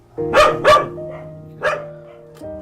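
Young puppies barking in a kennel, a few sharp loud yaps in a close cluster, then a lone bark after a pause, with a steady hum underneath.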